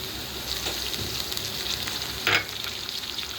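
Onion and tomato frying in a pan for a home-cooked cabbage sabzi, a steady close sizzle with occasional soft stirring scrapes and one brief louder clatter near the end.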